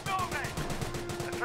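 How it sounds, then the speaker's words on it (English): Rapid machine-gun bursts from units in Company of Heroes, faint and rattling under a steady tone, with a commentator talking over them. "Red guns firing away."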